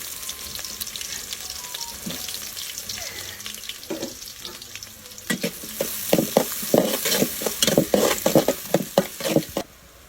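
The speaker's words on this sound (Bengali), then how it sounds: "তেলের ভিতরে আস্তে কিছু মশলা দিয়ে দিচ্ছি এলাচি দারচিনি কালো গোলমরিচ লবঙ্গ তেজপাতা এখন পেঁয়াজ দিয়ে দিচ্ছি" Onions hit hot oil with cardamom, cinnamon, black pepper, cloves and bay leaf on a clay stove for a buffalo meat curry, sizzling steadily and then joined by quick rhythmic scrapes of stirring.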